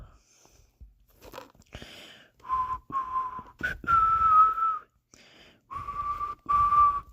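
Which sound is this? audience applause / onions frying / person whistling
person whistling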